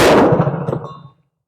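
A single loud, sharp shot from a Tisas 1911A1 .45 ACP pistol fired at a paper target on a range, with a quick decay into silence.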